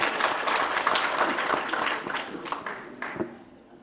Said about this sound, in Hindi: एक कविता के लिए आपसे तालियों का आह्वान करता हूं।